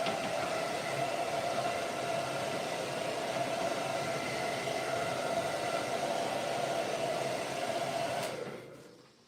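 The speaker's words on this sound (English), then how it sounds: "A little bit of hair dryer, Sean says" A hair dryer blowing on a handmade puppet, a steady whooshing roar with a constant motor whine that runs unbroken for about eight seconds, then cuts off abruptly and fades.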